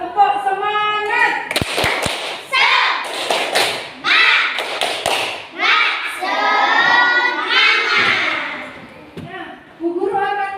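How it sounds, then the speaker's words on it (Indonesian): Schoolchildren in an Indonesian classroom doing a rhythmic spirit clap, several sharp claps in a quick pattern mixed with loud chanting and voices, close and energetic. "Kalau sudah siap, tepuk semangat."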